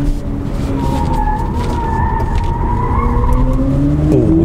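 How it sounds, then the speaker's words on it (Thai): A BMW iX3 M Sport electric SUV in Sport mode braking hard, with a sustained rising tire squeal and road noise over a few seconds, no talking. "โอ้โหเบรกอย่างหนักครับก็มาดีมากครับ"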